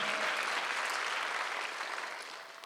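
A church congregation claps together at a Sunday worship service, a dense, steady wash of applause that fills the room and then tapers off slightly toward the end.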